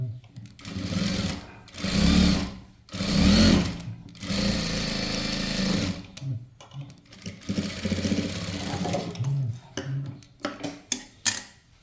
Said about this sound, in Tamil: இதை அப்படியே மேலே திருப்பிட்டு இதுக்கு மேலே ஒரு பதிச்சு தையல் போட்டுக்கலாம்.